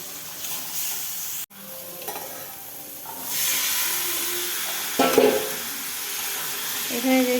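Boiled kabuli chickpeas are stirred and fried with spices in a pan, giving a steady sizzle with intermittent scraping stirs, close and fairly loud, with a brief gap early on.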